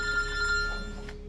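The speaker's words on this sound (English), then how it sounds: "You're ringing." A telephone rings indoors with steady, sustained bell tones, fairly loud and close, fading near the end, with no talk over it.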